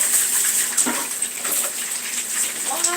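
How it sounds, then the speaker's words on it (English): Tap water runs steadily over rice being rinsed, a close, continuous splashing gush with small shifts as the grains are moved, with no talking. "let me run this under the water just to get it nice and get some of that starch out of it"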